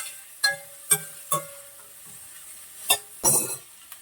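Curry leaves frying in a pan while gobi fry is cooked, heard as a few quick spits and crackles with light clinks of a spoon against the pan, spaced irregularly and close by.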